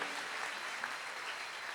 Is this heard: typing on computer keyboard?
no